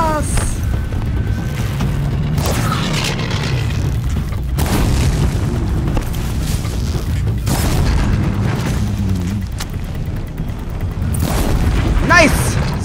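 Grenade blasts in the video game Horizon Zero Dawn boom loudly and repeatedly over dense game noise, while someone talks excitedly throughout.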